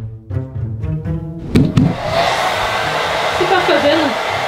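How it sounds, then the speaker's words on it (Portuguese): A hair dryer blowing on hair starts up with a short clatter and then runs as a steady, loud whooshing roar, preceded by a brief stretch of background tones. "secando o cabelo"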